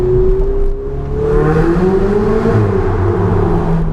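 Ferrari 488 GTB engine accelerating through a tunnel with the window down, a loud close rising roar that eases briefly then climbs again through the gears, echoing off the walls.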